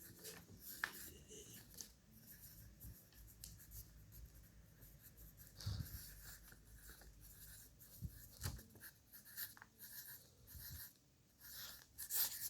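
Handwriting a name with a pen or marker on paper: faint, close scratching and rubbing strokes in irregular bursts, with small taps and shuffles between words in a quiet room.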